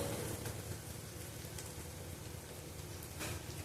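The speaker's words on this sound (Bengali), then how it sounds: "যেমন কাঁচা লঙ্কা দিলাম দিয়ে ভালো করে ভেজে নেব" Green chilies frying in hot oil in a pan, a soft steady sizzle and crackle that stays faint and even throughout, with no talking.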